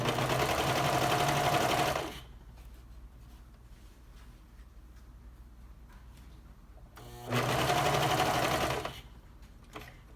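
A serger sewing machine stitches elastic into folded fabric using a blind hem foot, its fast whirring run heard in two loud bursts, the first about two seconds and the second shorter, separated by a quiet pause.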